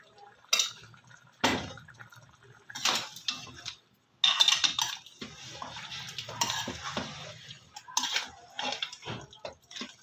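Mutton korma ingredients being mixed with oil in a pot, heard as intermittent close clinks and scrapes of a spoon against metal, with soft wet stirring in between and no talk.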